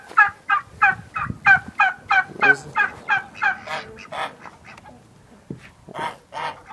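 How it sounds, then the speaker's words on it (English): A rapid series of loud, nasal honking calls from several nearby geese, overlapping in quick rhythm before tapering off into scattered honks. "Our noisy geese."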